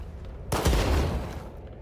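A single heavy shotgun blast in the video game S.T.A.L.K.E.R. 2, loud and close, booming sharply then trailing off over about a second against a quiet background.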